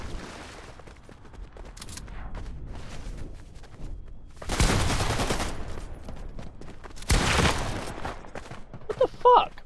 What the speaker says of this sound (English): He just fucking started firing at me.